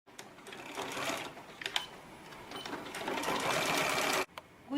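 A sewing machine stitches fabric in quick rattling bursts with short pauses between runs, close and clear, stopping abruptly near the end.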